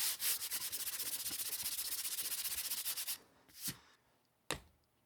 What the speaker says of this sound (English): Some of this carbide sanding mesh